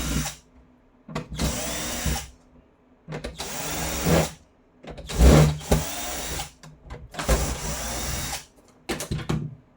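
A power screwdriver backs out screws from the front bumper strip of a robot vacuum. It gives several short, close whirring bursts with brief pauses between them, and each burst ends with a slight rattle.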